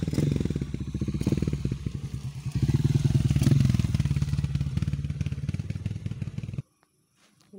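A motorcycle engine runs close by on a mountain road, a steady rumbling idle that swells louder for a stretch before cutting off abruptly near the end, followed by near silence.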